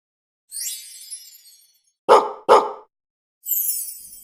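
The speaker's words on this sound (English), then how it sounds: "Dog." Two sharp, loud dog barks land close together, framed by high, bright chimes or twinkling tones before and after, with no voices.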